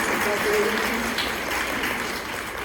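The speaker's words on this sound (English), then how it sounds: "let's give a round of applause for the wonderful food and all the work that they went" A gathered audience at a church-style event applauds in a dense, continuous wash of clapping for the food and the work behind it, holding steady at moderate loudness with a voice faintly underneath.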